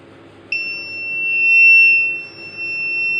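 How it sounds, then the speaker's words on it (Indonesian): An electronic buzzer on a full water tank switches on abruptly and keeps sounding as a steady, piercing high tone over a faint low hum. "tangki full, pompa akan off, ditandai dengan buzzer yang berbunyi"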